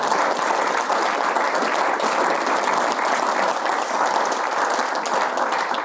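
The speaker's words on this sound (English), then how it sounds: "clap for them" A dinner audience applauds Julie and Andrew with dense, sustained clapping from many hands, even and continuous throughout with no voices.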